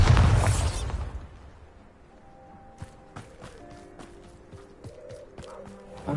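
A Bombarda spell explosion in Hogwarts Legacy, a loud burst at the start that fades into quieter footsteps and small scattered pops.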